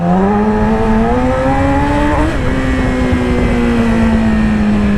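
A motorcycle engine idles and rises briefly as the throttle is blipped, pitch climbing then settling, steady and close with no talking.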